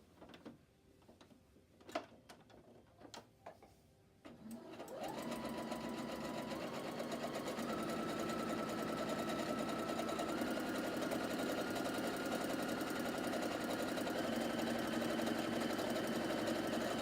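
After a few light clicks, a sewing machine starts stitching a seam on a McCall's 7482 garment and runs steadily at speed, a close, even mechanical whir with no talk.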